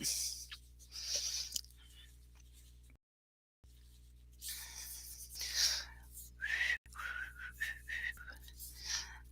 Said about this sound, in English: I like to whistle while I work sometimes.